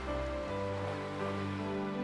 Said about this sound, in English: When you hear the gentle sounds of water